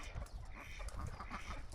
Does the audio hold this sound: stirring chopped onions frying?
no